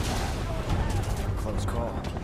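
Dense gunfire and explosive bursts from the video game Final Fantasy VII Remake, a loud continuous barrage of battle noise with shouting voices mixed in.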